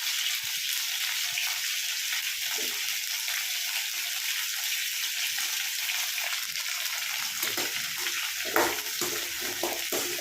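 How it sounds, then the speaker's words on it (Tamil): Chopped onion and brinjal fry together in oil, a constant close hiss of sizzling with occasional soft stirring bumps and one brief louder scrape. "அந்த எண்ணெயில் வதங்கி வரும்போது வெங்காயமும் சேர்ந்தே வதங்கி வந்துடும்."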